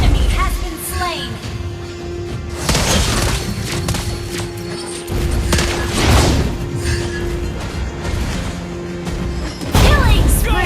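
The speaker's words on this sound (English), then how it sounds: "Your team destroyed a turret." Turret destroyed in Mobile Legends, a busy mobile battle game: repeated loud booms and crashing impacts with bursts of effects, layered under music and game announcer voice lines throughout.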